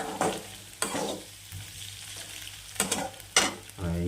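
Egg stir-fried in a pan for egg rice, a soft steady sizzle with several scraping stirs of the spatula spaced through the clip, close and moderately loud, no voices.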